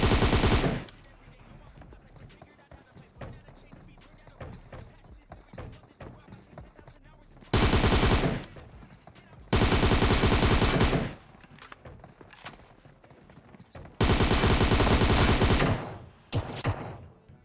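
PUBG gunfire breaks out in several loud automatic bursts, some about a second long and others nearly two seconds, with quieter stretches of game sound between them.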